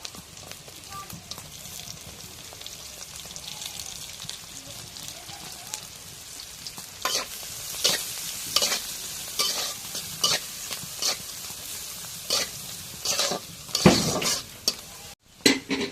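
Bay leaves and green chilies fry in oil in a pan while being stirred, giving a continuous close sizzle broken by repeated scraping and stirring clatter that grows busier toward the end.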